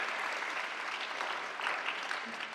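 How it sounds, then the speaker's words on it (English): Attendees at a women and girls in STEM conference in Gambia clap for themselves, a fairly quiet but steady patter of many hands lasting the whole moment. "Clap for yourselves."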